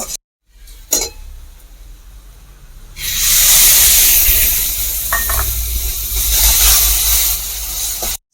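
Spices and tomato paste sizzle loudly in a hot pan over high heat for a village-style shol fish curry, a sudden strong hiss and crackle starting after a few quiet seconds and continuing steadily.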